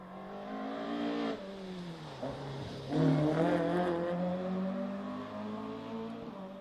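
Mini race cars climbing a hillclimb course in an Irish championship event, engines revving through a corner with a rising and falling pitch, fairly close and continuous, no talk.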